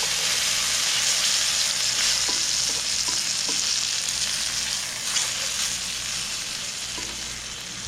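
Loud, steady sizzling of chicken frying on a hot Weber Q1200 grill in a backyard, with occasional pops and faint scraping.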